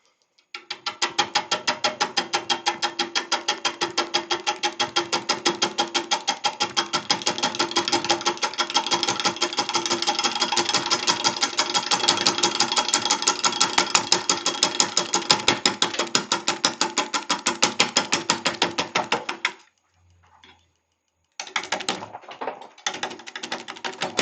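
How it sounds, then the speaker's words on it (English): A yew column spins on a wood lathe while a bowl gouge cuts it, producing a fast, steady, loud rattling chatter for about twenty seconds before stopping, then resuming briefly. "I will do that with with the bowl gouge"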